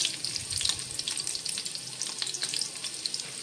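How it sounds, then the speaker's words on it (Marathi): Chopped green chilies sizzle and crackle steadily in hot oil in a home kitchen pan, a continuous bright frying hiss with small pops throughout and no talking. "या मिरच्या जरा फ्राय होत आल्या की त्याच्यामध्ये आपण हे थोडंसं जिरं घालणार आहोत."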